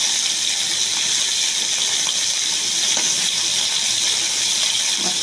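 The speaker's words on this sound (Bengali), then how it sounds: "প্রথমে আমি মাছটা ভেজে নিচ্ছি" Deshi magur catfish frying in hot oil in a pan, a steady loud hiss and crackle that runs unbroken, close up, with no talking.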